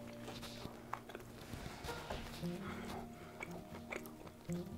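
Someone biting and chewing a buttered sourdough English muffin, soft crunchy bites and moist chewing close to the microphone, with faint murmured sounds of enjoyment and low background hum.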